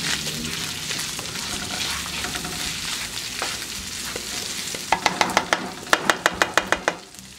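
Rice with onion, chicken and browned ingredients sizzles steadily in a pan for a Christmas rice dish, then a run of sharp, evenly spaced spoon scrapes and taps rings out near the end.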